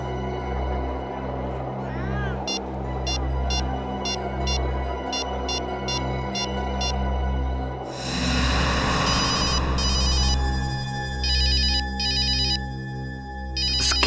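A phone ringtone rings repeatedly in a Hindi crime drama scene, a clear electronic melody in bursts over a steady low background hum, growing fuller and louder partway through.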